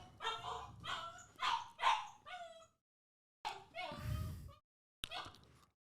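A dog barks and yips in short bursts at people walking by, a rapid run of close barks followed by a couple of whimpering yelps.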